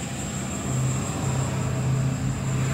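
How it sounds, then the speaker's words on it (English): A truck rolls past outdoors while wheels are being cleaned, a steady low rumble holding for a few seconds at moderate level with no talk over it. "Got a truck driving by over here."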